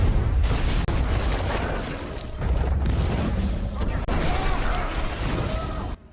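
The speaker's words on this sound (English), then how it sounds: "An explosion rips through the tunnel" A movie-effect explosion rips through a tunnel, a dense, loud roaring blast with rumbling debris and bursts that fills the whole stretch, with a voice narrating over it.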